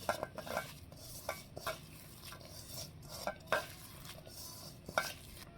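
Spice paste of dried red chilli paste, salt, turmeric, chilli powder and coriander powder is mixed by hand in a bowl, with soft, wet squelching and rubbing plus repeated light clinks against the bowl, close and fairly quiet.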